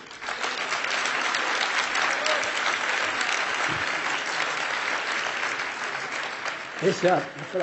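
A sustained burst of audience applause, dense and even for several seconds before tapering off as a voice begins at the end.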